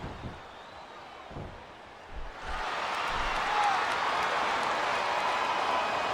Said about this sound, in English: It's great to hear the fans come alive every time Jeff Hardy sets foot in the ring